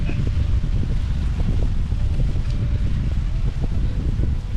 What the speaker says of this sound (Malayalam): നല്ല കാറ്റുണ്ടല്ലോ